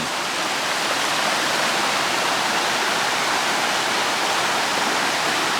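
Water rushing steadily at the old wooden watermills in Jajce, a loud, continuous broadband roar of flowing water heard up close with no voices.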